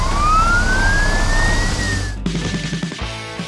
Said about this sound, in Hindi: समय बहुत कम है और सायरन की आवाज हवा में गूंज रही है।